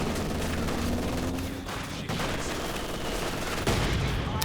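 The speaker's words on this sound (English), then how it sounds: "I'm surprised the mortar pit can range that far." Mortar pit barrage from Company of Heroes 2 battle, a dense continuous rumble of distant shelling and gunfire filling the scene with steady loud blasts.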